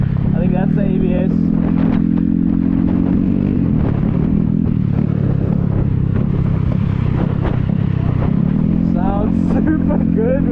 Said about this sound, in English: Got a really clean single cylinder sound.